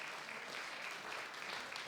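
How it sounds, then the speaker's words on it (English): A community celebration crowd claps steadily, a soft, even patter of applause heard from some distance with no break. "Round of applause, please, guys."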